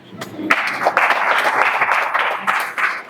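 Audience applause from a crowd at a spiritual discourse gathering, a dense steady burst of clapping lasting about three seconds, fairly loud and close, with a brief voice surfacing near the start.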